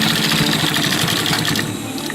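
A sewing machine runs steadily, stitching a utility pouch near Velcro, a continuous close whirring hum with no pauses or voices.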